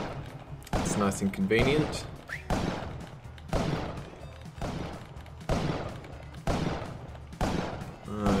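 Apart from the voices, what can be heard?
shotgun shots in the video game Spelunky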